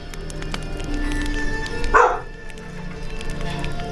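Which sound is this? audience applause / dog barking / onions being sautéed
dog barking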